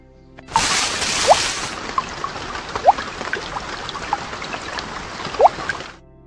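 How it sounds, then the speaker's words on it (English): Steady rain pours down outdoors in a broad, continuous hiss, with brief high chirps and whistles scattered across it and no talking. "Suddenly, it began to rain."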